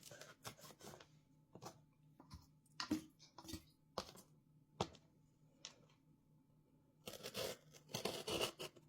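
Vanilla beans are split and cut in half, giving soft crisp snips and tearing crackles in short irregular bursts, close and quiet, with a denser cluster of cuts near the end.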